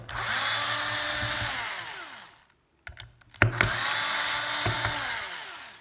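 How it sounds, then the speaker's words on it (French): Screws being loosened on a noisy ventilation unit, probably with a power screwdriver: two sustained whirring motor runs, each winding down, with a short pause of clicks and knocks between them. "Donc les vis, hein, comme je disais, il n'y a pas une vis qui n'est pas à desserrer. Donc on desserre."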